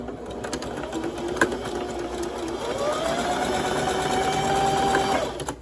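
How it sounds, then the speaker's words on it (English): A sewing machine stitches along the folded edge of a sweatband to close it into a loop, a steady close-up whir that rises in pitch and speed partway through the run and stops near the end. "I'm going to fold it in half and I'm going to sew the edge so that it makes a circle."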